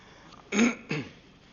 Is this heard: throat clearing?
yes